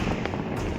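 Diwali firecrackers pop in a brief burst, a few sharp cracks over a busy background, fairly loud and close.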